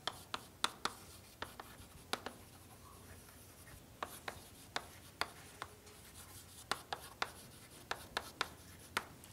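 Chalk taps and scratches across a board as a lecturer writes during a numerical methods class, irregular sharp clicks and short strokes, faint and close in a quiet room.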